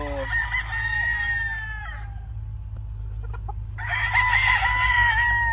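Gray gamefowl roosters crow loudly nearby, one long crow followed by a pause with faint clucks, then another crow, over a low steady background hum.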